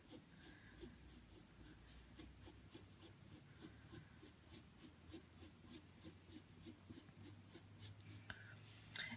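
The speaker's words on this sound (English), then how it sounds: "I am just going to cross hatch one more time to hide the direction of those marks" A pencil cross-hatches on paper in quick, rhythmic scratching strokes, close and steady, repeating evenly over the quiet room.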